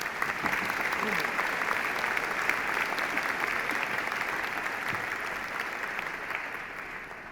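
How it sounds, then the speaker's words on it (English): Steady audience applause fills a university convocation ceremony hall, a dense even wash of clapping that holds throughout and tapers only slightly at the end. "Let's give him another round of applause."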